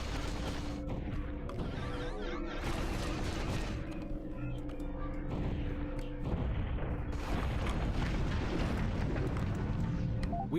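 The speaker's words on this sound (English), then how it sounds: "Fire missiles." In the space game Space Pirates and Zombies 2, missiles fire in a rapid volley of booming blasts and crashing impacts amid a busy electronic background.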